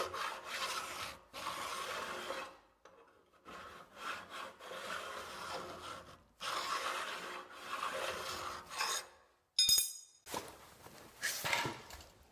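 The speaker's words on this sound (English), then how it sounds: "I don't have one, so I'm doing it with a file." A hand file rasps along a long flat steel surface for a fabricated press brake, in long rough strokes with brief pauses between them and a sharp metallic clink near the end.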